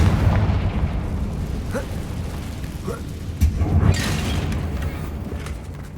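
Confringo fire-blast spell in the video game Hogwarts Legacy, heard as a loud, rumbling burst with booming low-end impacts that swell and roll on over a steady roar.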